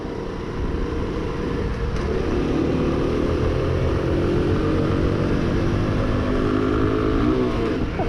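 Honda Super Cub NBC110 custom motorcycle on a shakedown ride in New Zealand: a steady buzzing small-engine drone with rising and falling revs through gear changes, loud and close with wind rush, no talk.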